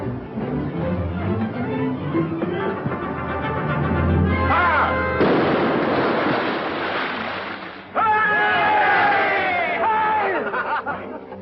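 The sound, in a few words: ship's cannon shot fired in a 1945 film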